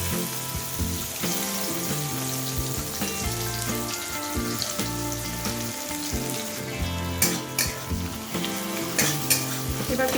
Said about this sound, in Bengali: গোটা মশলাগুলো হয়ে গেলে এর মধ্যে আমি কেটে রাখা পেঁয়াজ অ্যাড করে দিচ্ছি